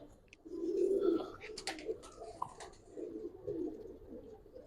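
A pair of Giribaz pigeons cooing up close, with low throaty rolling coos repeated over a few seconds, some faint handling noise around them.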